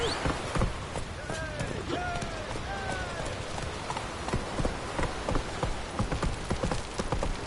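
In The Witcher 3, the horse Roach gallops with a steady, rhythmic clip-clop of hooves while rain patters around it. A voice calls out over the hoofbeats.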